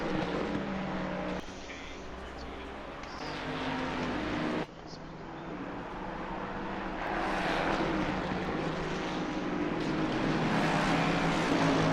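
Race cars in a PS5 Gran Turismo GT3 championship at Brands Hatch produce a steady engine and road drone with shifting pitch as someone talks over it throughout.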